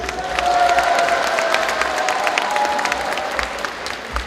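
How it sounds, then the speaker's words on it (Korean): Audience at a Korean party leadership candidates' speech event applauds steadily, dense clapping from a crowd that holds evenly throughout. "격려의 박수 부탁드리겠습니다"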